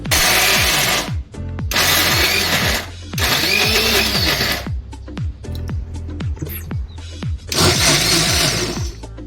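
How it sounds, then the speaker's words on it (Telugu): Mixer grinder whirring loudly in several bursts as it blends roasted peanuts, green chillies, water and salt into chutney, with brief pauses and rattling between runs. "వేయించుకున్న పల్లీలు, పచ్చిమిర్చి, వాటర్, సాల్ట్ అన్నీ వేసి మిక్సీ పట్టాలి"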